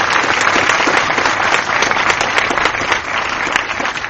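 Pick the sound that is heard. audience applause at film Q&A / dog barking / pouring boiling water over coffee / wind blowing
audience applause at film Q&A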